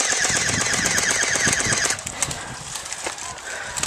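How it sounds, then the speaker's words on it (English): An airsoft gun fires at a high rate during an outdoor airsoft game, with rapid rattling bursts over steady background noise for about two seconds, then scattered shots and faint voices. "That one guy has an insane fire rate."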